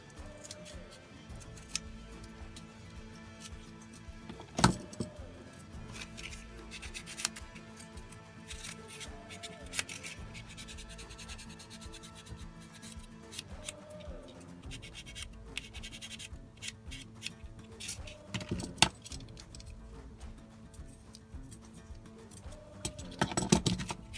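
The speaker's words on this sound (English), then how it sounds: "I'm just going to use a snap knife to carve this" A snap knife carving a small wooden part for a scratch-built log splitter model, making continuous close scraping and shaving strokes with occasional sharper snicks, steady and fairly quiet with no talk.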